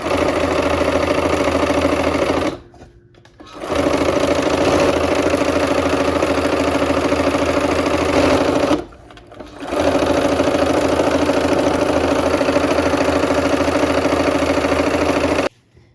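A sewing machine stitches quilt blocks in loud, steady bursts, with two brief pauses between runs of the needle and no talk over it.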